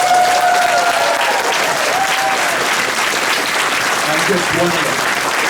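Crowd applause at a protest rally against the Muslim ban in Morton Grove, loud and sustained clapping filling the whole stretch while a speaker talks over it.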